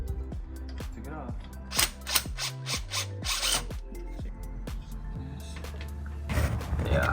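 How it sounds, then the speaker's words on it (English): An impact gun hammers at the crank pulley of a Toyota 1UZ V8 engine in a 240SX. Several rapid rattling bursts sit close and loud over a garage hum, with a louder mechanical rush near the end. "I'm gonna take off this crank pulley"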